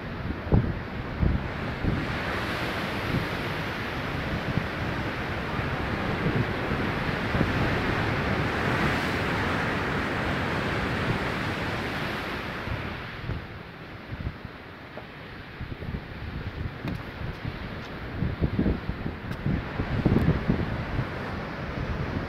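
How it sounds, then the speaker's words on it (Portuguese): Atlantic surf and strong coastal wind at Foz do Douro near the Felgueiras lighthouse: continuous roaring wind buffeting the microphone over washing, crashing waves, steady and loud throughout with no talking. "Vamos ver se vem uma onda grandona."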